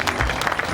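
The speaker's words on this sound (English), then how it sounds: "a big round of applause" A brief burst of audience applause at a pizzeria's celebration event, dense clapping filling a split second at steady loudness.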